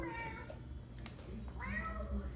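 A pet cat meows indoors, two close, clear meows separated by a brief pause, with some low background noise.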